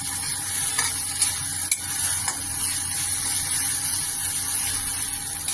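Mashed water lily stalk sautés in a pan with a constant crackling sizzle and occasional scrapes of stirring. It stays steady and moderately loud throughout, with no speech.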